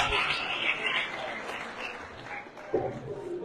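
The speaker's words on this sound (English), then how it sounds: "Can we give her a round of applause" Applause from an audience at a 2023 convention, with soft, dense clapping carried along at moderate volume and a few voices mixed in beneath it.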